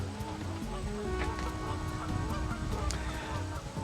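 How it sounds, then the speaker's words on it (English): Geese honk repeatedly at a riverside park along the Fox River in Burlington, Wisconsin, with several short, scattered honks over steady outdoor background noise, fairly close. "We got a lot of geese here."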